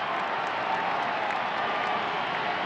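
An Italian crowd applauding Woodrow Wilson, heard as a steady, even wash of distant clapping, rather muffled and unbroken for the whole stretch.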